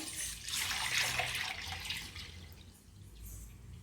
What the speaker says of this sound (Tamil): இப்போ நான் பாலை கடாயில ஊத்திக்கிறேன்.